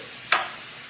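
Chopped onion for stuffed bell peppers drops into a hot pan, giving a single sudden sizzling burst that quickly settles into a faint steady hiss, with no talking.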